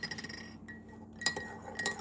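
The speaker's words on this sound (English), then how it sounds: "We're gonna add 2 more ice cubes." Ice cubes drop into a glass of hot water, giving sharp, close clinks in a few quick bursts against quiet room tone, with no talking.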